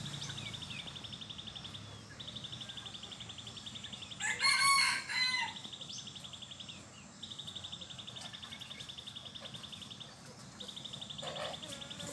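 A bantam rooster on a farm in Bang Saphan, Thailand crows repeatedly in long rasping calls, fairly distant and faint, with a brief louder burst of clucking partway through.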